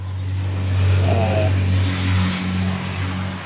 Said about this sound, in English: Sorry, the traffic noise is pretty loud.